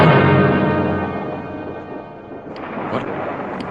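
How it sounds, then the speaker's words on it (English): Thunder from a radio-drama storm effect, a loud deep rumble that rolls and slowly fades over several seconds, then a softer second rumble with faint crackles, with no voices. "It's only the storm, dear."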